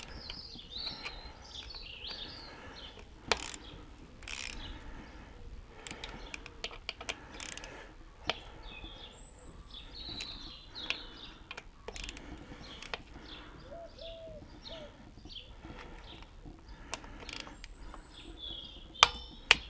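Ratchet clicks while tightening a seat post bolt on a Planet X Pro Carbon Evo carbon road bike, with soft irregular ticking and occasional sharper clicks, quiet and close over a low background hiss.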